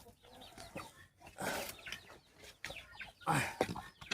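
Guinea fowl calling nearby, a scatter of harsh, rattling clucks in uneven bursts, fairly loud, with rustling around them.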